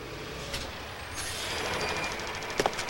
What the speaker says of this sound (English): And then I heard a truck coming.